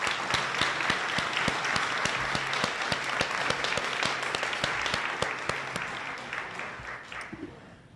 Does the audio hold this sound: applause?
yes